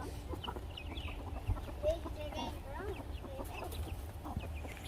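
Chickens clucking softly around a farm coop, with roosters in the flock, scattered murmuring calls and brief squawks at moderate distance over faint background noise.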